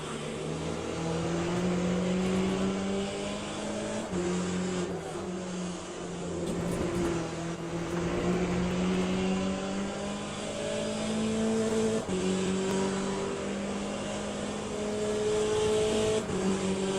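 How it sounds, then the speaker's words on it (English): Several hypercars in the Le Mans Ultimate racing game scream past in a dense wave, their engine notes layering and shifting pitch as they sweep by for about seventeen seconds, loud and continuous with brief tire squeal. "here come a whole wave of hypercars"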